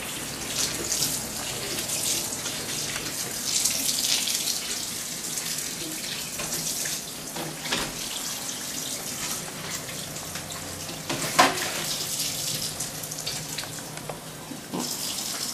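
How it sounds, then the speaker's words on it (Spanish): A kitchen tap runs steadily into a sink while dishes are washed, a continuous close gush of water with small clinks and splashes breaking through now and then. "A ver si está lavando los platos."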